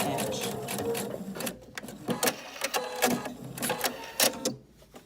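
A domestic sewing machine stitches down the sides of fabric for a small pocket tissue holder, giving bursts of rapid mechanical whirring and clatter that stop and start, close up, with someone talking between runs.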